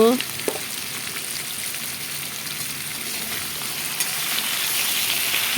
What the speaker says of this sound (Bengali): নুন হলুদটা দিয়ে সুন্দর করে লাল লাল করে ভেজে নেব।